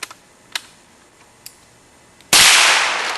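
Gunshot at morning shooting practice with .357, .45 ACP and .22 LR firearms: a few faint clicks and taps first, then one sudden loud blast that rings and decays slowly.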